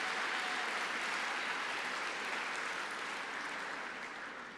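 Applause from the audience at the 84th Overseas Press Club awards ceremony, a continuous even wash of clapping that holds steady then slowly tapers off near the end.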